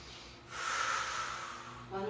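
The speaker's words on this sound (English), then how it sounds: "Inhale and exhale." Slow breath drawn in and let out during a Pilates exercise, a steady airy rush lasting over a second, close and fairly soft, with a faint voice starting at the end.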